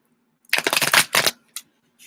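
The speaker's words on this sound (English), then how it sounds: "Let's get 2 more shuffles, please." Tarot cards are shuffled in two quick riffling bursts, crisp and close, followed by a short tap, with no talking.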